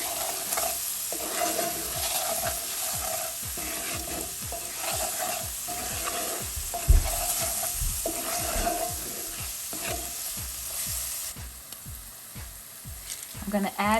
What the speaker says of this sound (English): Now what you're going to do is saute this.